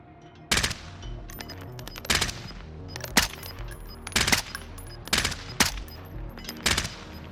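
Type 63 rifle shots in Call of Duty: Warzone ring out as single sharp cracks at about one-second intervals, each with a brief echoing tail over a quiet game ambience.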